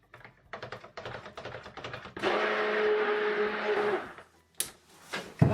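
Stick blender whirring steadily for about two seconds in goat's milk soap batter, close by, between clicks and taps of handling before and after.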